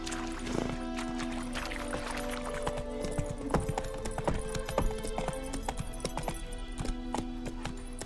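Roach the horse galloping in The Witcher 3, hooves pounding in a quick steady clip-clop rhythm, close and continuous under a soft game ambience, with a brief snort near the start.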